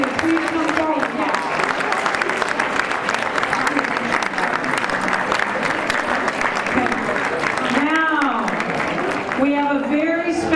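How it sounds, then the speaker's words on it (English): An audience gives officials sustained applause, a broad, steady wash of many hands clapping, while a voice speaks over it and a raised voice or cheer rises near the end. "Please give them a round of applause."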